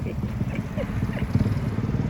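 A motorcycle approaches nearby, its low engine rumble loud and steady.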